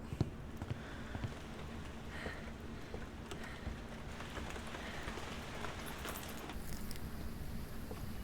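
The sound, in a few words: rain heard from indoors in Phasmophobia (video game)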